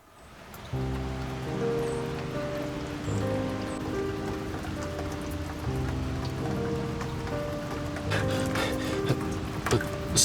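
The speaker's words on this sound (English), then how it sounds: "It's raining." Steady rain patters down across a surface, a constant close hiss that carries through the whole stretch beneath a layer of background music, with no one talking.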